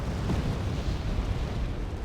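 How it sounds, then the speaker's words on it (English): A napalm strike explodes in Wargame: Red Dragon, dropped by a Mirage jet on a tropical map, giving a continuous heavy rumbling roar with low crackling booms that carries steadily through the whole moment. "So now this Mirage comes in for a napalm strike, then turns and fires his cannon onto this intruder."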